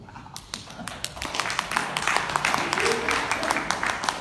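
Hands clap during a church service, a run of sharp, close claps in an uneven rhythm that grows denser over a few seconds, mixed with voices and a busy room.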